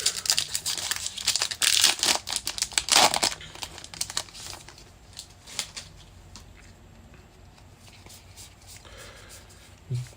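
A foil Bright Lights trading card pack, a Majestic pack, is torn open by hand, with loud crinkling and rustling bursts up close in the first few seconds, then softer handling and card shuffling.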